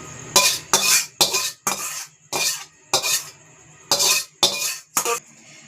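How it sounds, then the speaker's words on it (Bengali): Small fish curry is scooped out with a metal spoon into a serving dish, making a series of about ten close, loud scraping clinks in an uneven rhythm, each with a brief ringing tone. "এবার আমি তরকারিটা ঢেলে নেবো"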